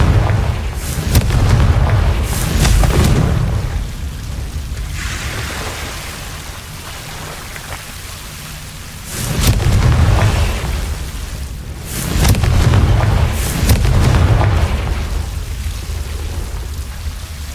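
Confringo blasting-spell explosions in the Hogwarts Legacy video game: several deep, rumbling booms, each swelling and rolling off over a couple of seconds, spaced apart with crackling debris between them; no talking.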